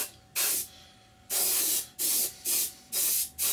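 Airbrush blowing plain air to dry paint on a Seafire scale model, sharp hissy bursts of varying length: one short, one long, then four quick close puffs.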